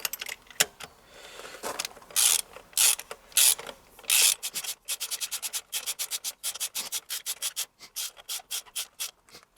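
A ratchet with a 16mm deep socket tightens spark plugs: bursts of rapid close clicking, first in a few separate runs, then a long quick series of ratchet strokes, with no talk.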